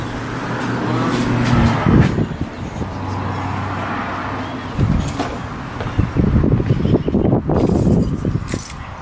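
Yamaha MT-03 motorcycle, a 2021 model, starting up in a garage: an engine hum and idle with clunks and handling noises over it, steady and close, no talk.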